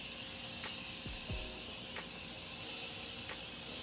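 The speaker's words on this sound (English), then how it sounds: "So now I'm just going to spray on some setting spray" Morphe Continuous Setting Mist makeup setting spray misted onto a face in a few short hissing bursts, close and clear over a steady low background hum, with no talking.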